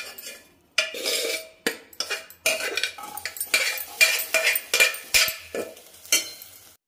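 A spoon scrapes and clanks against a pot while softly boiled black kavuni rice is moved into a bowl for a beetroot payasam; a run of close, repeated metallic scoops and knocks comes in uneven bursts with no talking.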